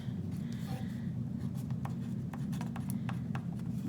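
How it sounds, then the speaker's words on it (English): Crayon writing a message on an egg, a steady soft scratchy rubbing with brief strokes, close and continuous over a low background hum, no talking. "and I'm going to write a message"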